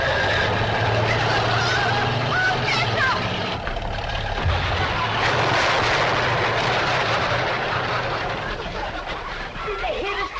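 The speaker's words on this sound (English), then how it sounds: "Cousin Pearl and that overgrown son of hers is headed right for the cabin in that old truck." Old truck honking repeatedly as it races toward a cabin and crashes into a chicken house, loud honks over a roaring engine with shouting voices throughout.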